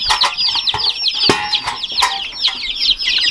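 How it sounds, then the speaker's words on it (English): Turkeys and chickens on a farm cluck close by in a busy, overlapping chorus of short, rapid calls, with a few sharper squawks mixed in. "We got 4 turkeys."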